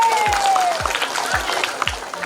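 Audience applause at a Jepara public health launch event on stunting prevention, a dense wash of clapping filling the whole short stretch, loud and steady, with a few low thumps recurring underneath.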